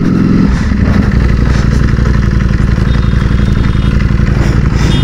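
A Ducati motorcycle engine runs loud and close, with a deep, steady rumbling throb throughout.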